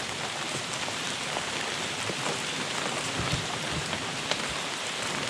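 Steady rain falls outdoors in a wilderness area along the Withlacoochee River, a dense, even patter of drops on leaves and ground with no talk.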